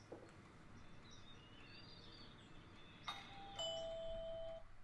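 A doorbell chimes at a moderate distance, two clear ringing tones sounding one after the other over a faint, steady background hum.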